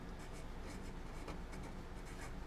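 Pen strokes scratching out a metal's name by hand on paper, a quiet series of short rhythmic scrapes close to the mic over a steady low background.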